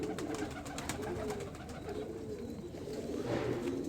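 Indian breed pigeons coo softly and repeatedly in a loft, low murmuring calls that continue steadily beneath faint ambient noise.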